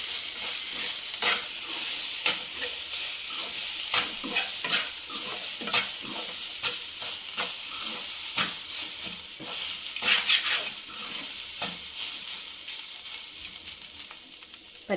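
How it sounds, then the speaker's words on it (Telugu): Coconut, ginger and green chili paste stir-fried in a tempering of hot oil: a bright continuous sizzle broken by repeated close scraping strokes of a spatula against the pan, steady and fairly loud with no talk. "పచ్చివాసన వెళ్ళే వరకు ఫ్రై చేసుకుందాం"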